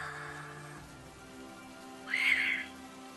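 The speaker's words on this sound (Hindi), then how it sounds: "लगातार बारिश की आवाज" A steady hiss of rain runs throughout, with a brief high whistling tone rising above it toward the end.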